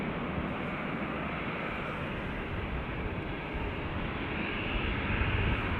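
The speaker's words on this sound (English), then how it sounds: "ATR next inbound from Donegal." An ATR turboprop airliner inbound from Donegal to Dublin Airport's north runway, a steady broad engine drone that builds a little toward the end, with no talk over it.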